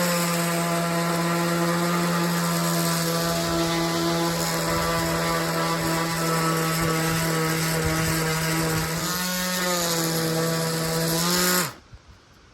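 A power sander works over a chainsaw-carved wooden bird cabin, its motor droning loud and steady for about twelve seconds before cutting off abruptly near the end.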